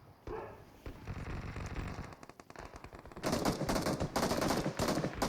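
Gunfire in a shooter video game, with rapid automatic bursts that grow louder and denser in the second half, heard close with no talk.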